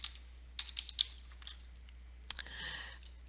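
Scattered keystrokes on a computer keyboard while code is typed, with a few sharp, close clicks in irregular bursts and a softer rustling patter near the end, faint and with no voices.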